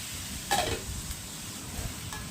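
Cauliflower tipped into a pan of sizzling masala for a cauliflower masala fry, giving a short loud burst of frying and stirring, then a steady low sizzle for the rest, with no talk.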